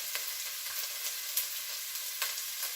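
Steady hiss of about a tablespoon of chopped garlic sizzling in a hot pan, an even crackling frying noise with small pops, fairly close and continuous.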